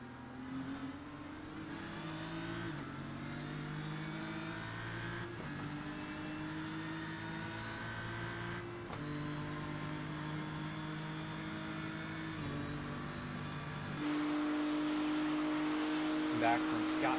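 A BMW race car engine laps Mount Panorama in a sim racing game, humming steadily with rising and falling revs and gear shifts, while a commentator talks over it throughout.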